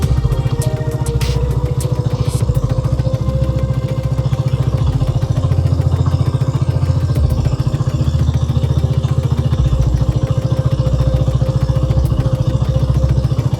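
A motorcycle engine idling steadily and close while the drive chain is cleaned with it running, a loud continuous low rumble with light clattering and a few clicks early on, no speech.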